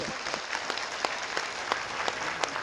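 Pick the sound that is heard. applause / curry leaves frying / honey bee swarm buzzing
applause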